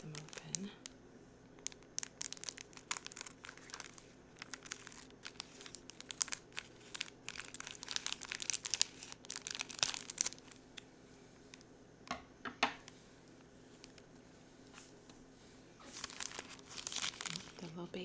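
Crinkly plastic packaging of diamond art kits is cut open and handled up close. It makes soft, irregular rustles and crackles that come in bursts, with quiet gaps between them.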